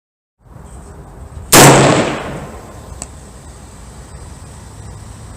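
A 6.5 Creedmoor AR-10 rifle fires a single loud, sharp shot nearby, followed by a fading echo and a faint metallic click, outdoors with no talk.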